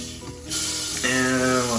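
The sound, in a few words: thick piece of beef searing for pot roast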